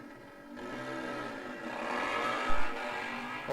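Hot Street class drag racing motorcycles without wheelie bars accelerate down the strip at a nitro nationals event. The engine roar builds to a loud, rising scream from a distance, with a brief burst near the end.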